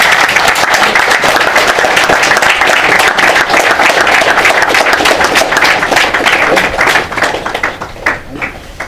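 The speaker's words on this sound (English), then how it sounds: "give a big round of applause" A large audience at a Losar 2018 ceremony launching a Nalanda Buddhist Philosophy diploma course gives loud, dense, sustained applause that thins out near the end.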